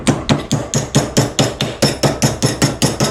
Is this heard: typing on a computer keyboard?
no